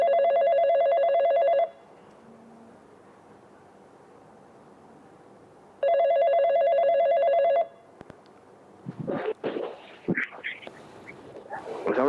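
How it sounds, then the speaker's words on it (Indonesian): A telephone rings with an incoming call, two loud, close bursts of a trilling bell-like ringtone separated by a quiet gap, followed by scattered handling noises. "Bentar ada telepon Mas Budut"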